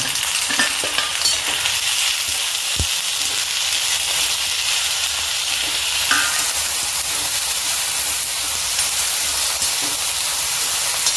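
Potatoes fry in oil with browned onion in a pan for an aloo matar dish, giving a loud, steady sizzle throughout with a few faint scrapes of stirring.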